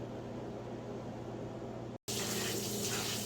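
Hot water poured off boiled eggs in a kitchen sink, then cold tap water running over them, a steady loud gush that cuts out briefly before the stream resumes.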